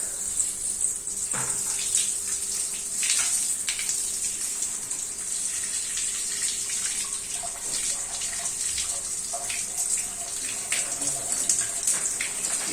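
Hot water running steadily as it rinses a bicycle and its freshly cleaned, blackened drivetrain, a continuous hissing splash close by with small shifts in flow and no talk.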